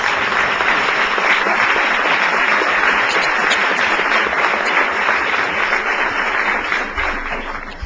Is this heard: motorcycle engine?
no